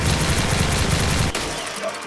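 Rapid bursts of automatic video game gunfire from the GS-3305 weapon mixed with explosions, dense and loud for over a second before cutting off into a fading tail.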